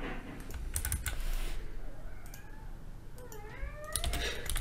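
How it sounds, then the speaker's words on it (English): A hungry house cat lets out two rising meows close by, under steady keyboard typing and clicking that carries on through the whole stretch. "That's one of my cats."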